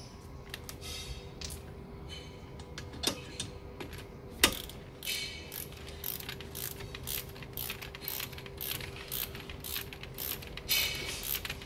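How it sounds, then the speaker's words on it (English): Rapid ratcheting clicks and metallic ticks while brake caliper pins are wound back into an Alfa Romeo 156 front brake, close and fairly quiet with a few sharper knocks. "And then we can start winding the caliper pins back in."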